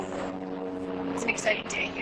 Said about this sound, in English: Hold for the helicopter.